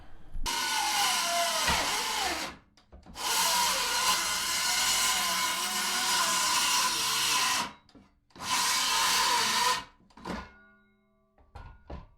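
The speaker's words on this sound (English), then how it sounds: "We'll go skill saw first," Circular skill saw cutting out an old barn wood floor, three long loud continuous cuts separated by brief pauses, ending with clunks and knocks of wood.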